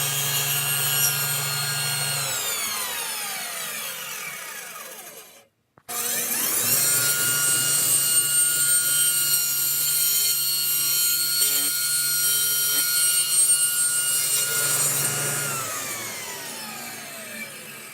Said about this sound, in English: while the actual blade is in, at the lowest setting, drop it in and it'll cut its own curve